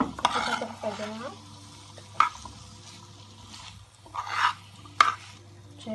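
A spoon stirs street-style beef liver with hot peppers in a pan on the stove. Intermittent scraping strokes come in short bursts over a quiet, steady sizzle, close by, and no one talks.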